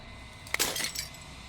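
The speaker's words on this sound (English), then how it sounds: "the final fragment of glass shatters" A single sharp crash of breaking glass in the game Slay the Princess, a bright close shatter with a short tinkling tail fading into a quiet hum, no speech.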